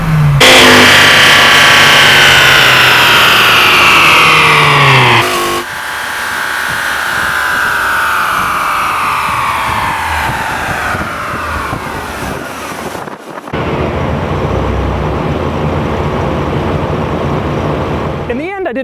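A Dodge Viper engine revs hard on a dyno, a loud rising and falling roar with sweeping pitch across several pulls, a brief cutoff near the end, then steady droning with voices heard over it.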